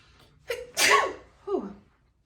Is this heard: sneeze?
yes